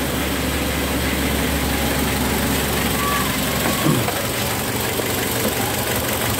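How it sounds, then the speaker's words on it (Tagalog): An engine idles roughly with heavy vibration after its air filter has been cleaned, giving a continuous loud drone with a few knocking thumps near the end. "Grabe ka kurog sa engine."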